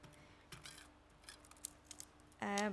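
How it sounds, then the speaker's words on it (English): Scissors snip around a paper pumpkin shape cut from pearl cardstock in a few short, crisp cuts close by, ending with a brief louder rustle of paper. "I will just cut around it with my scissors to create that like unusual pumpkin"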